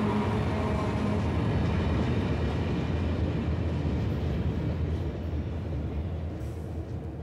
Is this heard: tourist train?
yes